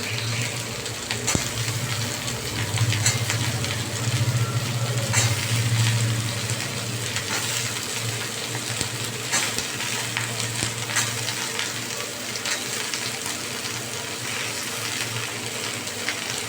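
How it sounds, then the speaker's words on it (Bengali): Diced beans, carrots and potatoes with a chopped green chilli sizzle steadily in a pan, a continuous close, moderately loud frying hiss with occasional stirring scrapes and no talk. "এবার আমি সবজিগুলোকে ভালো করে ভাজবো"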